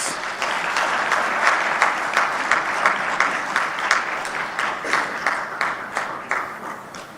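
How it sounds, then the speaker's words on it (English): A large audience applauds at an official launch ceremony for the African Peer Review Mechanism, with steady, dense clapping that swells in waves and carries on for the whole stretch. "Let us give a big round of applause."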